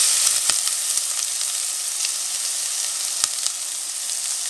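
Onions hitting hot grapeseed oil for a quick tomato sauce give a steady, bright sizzle that holds for the whole stretch, with a few sharp pops and spatters rising out of the frying hiss.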